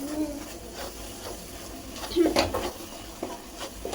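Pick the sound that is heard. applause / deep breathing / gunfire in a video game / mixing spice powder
mixing spice powder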